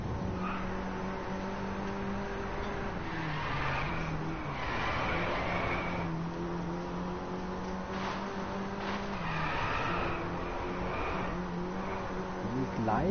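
A race car in the DriveClub racing game drives through corners with a steady engine drone and shifting revs. Squealing tires rise and fall as it goes, the sound is loud and continuous, and someone talks faintly underneath.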